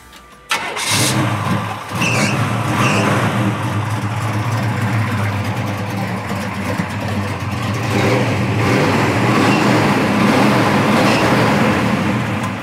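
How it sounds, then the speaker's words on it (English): A classic car engine idles steadily and loudly up close after starting, with a faint high belt squeal riding over the rumble. "Little belt squeal"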